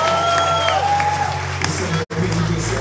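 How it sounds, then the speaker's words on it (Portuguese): A crowd at a Brazilian political campaign rally for Eduardo Braga claps and cheers steadily, a dense wash of applause with whoops, briefly cut by a dropout near the end. "Uma salva de palmas aí, gente!"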